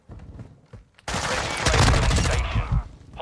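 Gunfire in a first-person shooter video game: a sharp shot, then a loud, dense burst of rapid automatic fire that sustains for about two seconds, with a few faint sounds before it.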